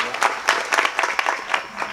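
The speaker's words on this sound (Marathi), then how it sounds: "माधव गुरुजींसाठी एकदा जोरदार टाळ्या सर्वांनी वाजवा." A seated audience at a Marathi kirtan gives a warm round of clapping for a young mridang player. The applause is dense and steady and fills the space, with some crowd voices mixed in.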